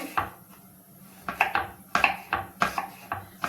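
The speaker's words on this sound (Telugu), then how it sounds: "సొరకాయ ముక్కలు ఇలా సన్నగా కోసుకోవాలండి" A knife chops a bottle gourd into thin pieces on a cutting board, giving a rhythmic series of about eight crisp, close taps that come faster toward the end.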